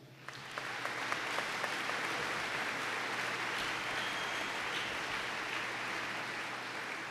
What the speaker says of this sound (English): But please give them a round of applause.